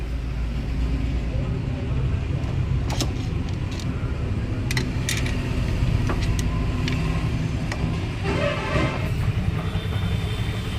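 A vehicle running in top gear with a damaged tail pinion bearing, giving a steady low droning rumble with scattered metallic clicks and rattles, and a voice briefly audible near the end.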